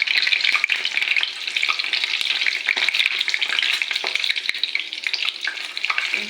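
Gulab jamun deep fry in oil on a low flame, a dense, steady close crackle and sizzle with scattered pops and light stirring clicks, with no talk.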